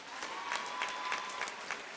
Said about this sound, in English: Can we please give a round of applause to our candidates?